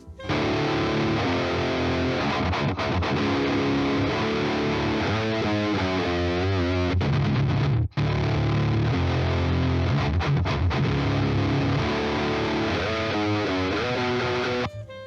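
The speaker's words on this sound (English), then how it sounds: "a lot of low end going into the distortion creates what we perceive as a very fuzzy, undefined, unrefined, and like a lot less attack on the sound" Electric guitar through an amp with heavy distortion and boosted low end, a loud, thick, fuzzy tone with chords and bending notes, a brief cut midway, then continuing to the end.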